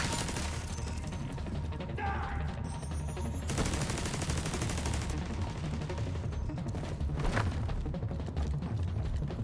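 Gunfire in a PC video game shooter, dense and continuous with rapid crackling shots and mechanical clatter throughout, loud and close with game sounds layered over it.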